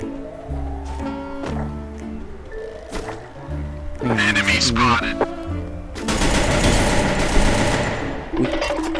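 Rapid bursts of automatic gunfire from the Free Fire video game crackle in loud volleys alongside game effects, with excited talk in between shots.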